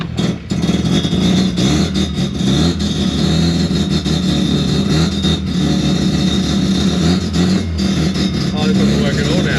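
A race-prepared older Mazda RX4 with a new engine runs roughly and loudly, its low rumble steady throughout with uneven surges and a brief dip near the start.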